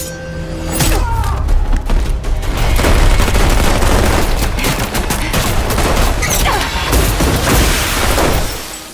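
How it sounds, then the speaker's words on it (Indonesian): Gunshots crack in a film scene, a rapid burst of loud, sharp shots near at hand that carries on for several seconds, with echoing reports and no clear talk. "Dayat yang mendengar hal itu langsung menembak Josie."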